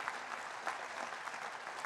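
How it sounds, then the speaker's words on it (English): An audience at a graduate school of education convocation gives a round of applause, a brief, even stretch of soft clapping heard from a distance. "Give me a round of applause for humankind"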